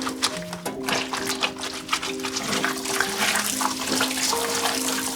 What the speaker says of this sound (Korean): 제일 좋아하는 세탁비누 도트비누로 극세사 타월을 손빨래해요.